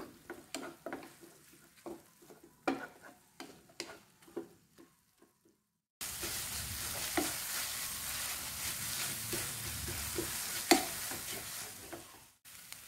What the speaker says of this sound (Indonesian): Kemudian tumis bumbunya hingga wangi dan juga matang.